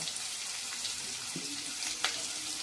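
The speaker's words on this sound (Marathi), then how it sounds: "मोहरी चांगली तडतडलेली आहे. त्याच्यावर आता आपण कांदा घालणार आहोत." Chopped onion goes into hot oil with crackled mustard seeds for a vegetable dish, making a faint, steady hissing sizzle with a couple of brief clinks.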